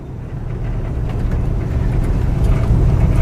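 A 1969 Oldsmobile 442 rumbles steadily as it pulls away on a short drive around the block, its low engine drone building gradually louder and closer with no talking.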